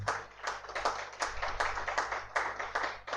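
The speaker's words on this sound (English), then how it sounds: "Can we have a big round of applause?" Enthusiastic applause from an audience at a live award ceremony, steady and fairly faint, with dense hand claps swelling in waves over about three seconds.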